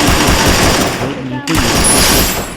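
Dense, rapid automatic gunfire from the video game Garena Free Fire, loud and continuous with a brief dip in the middle before the burst resumes.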